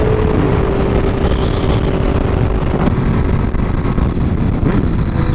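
A loud, constant roar of a Honda Fireblade sport motorcycle engine at speed mixed with heavy wind rush, steady and close with no pauses.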